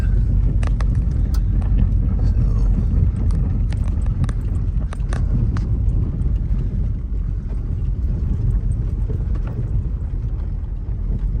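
A car rolls slowly along a rough gravel road on a hay farm in Elliott County, Kentucky, with a steady low rumble under scattered sharp clicks and pops of stones striking the underside, and no talk.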